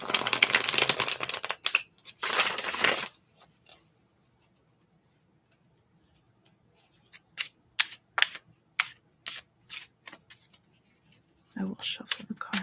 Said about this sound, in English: I will shuffle the cards.